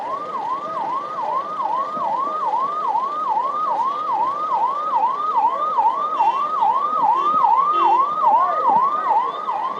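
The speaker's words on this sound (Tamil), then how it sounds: "நான் பேசி பிடிக்கிறதுல இன்னும் ஒரு 5-6 ஆம்புலன்ஸ் போகும் நீ பாத்துட்டு." Ambulance siren wailing past a Tamil political campaign rally, a loud rapid rising-and-falling electronic tone repeating steadily for nearly ten seconds over faint road traffic, with no speech.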